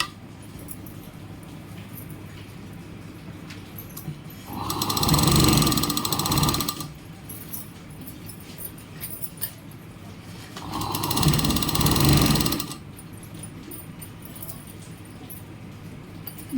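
A sewing machine stitches a blouse in two steady bursts of running, each about two seconds long, separated by quiet, fairly close and loud in an otherwise silent room.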